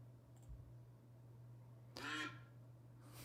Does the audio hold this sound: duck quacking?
yes